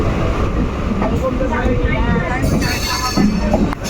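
A moving train on a railway, its steady rumble and clatter filling the background at close range while people talk over it throughout.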